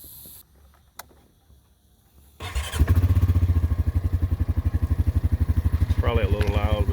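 A four-wheeler ATV engine starts up after a quiet pause and runs loud and close with a steady pulsing throb during a bumpy farm ride, with a rising squeal near the end.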